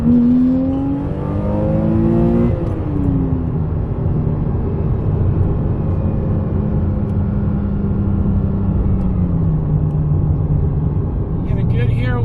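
A 987.2 Porsche Cayman with a Top Speed Pro 1 exhaust roars loudly, heard from inside, climbing in pitch as it revs hard past 4,000 RPM to redline, then easing back down into a sustained high drone.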